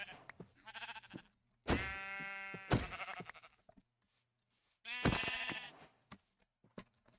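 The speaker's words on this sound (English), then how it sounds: "Oh, it's a bunch of sheep." Minecraft sheep bleat several times, two long loud wavering bleats with softer ones between, against a quiet background.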